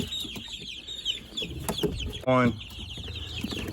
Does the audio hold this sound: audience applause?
no